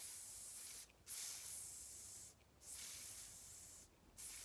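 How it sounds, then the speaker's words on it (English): A faulty spray bottle gives a loud, steady hissing spray that cuts out three times in short gaps, sputtering before resuming, with no voices. "See, after a while, it stops spraying"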